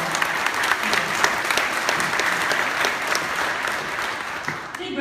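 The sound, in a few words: audience applause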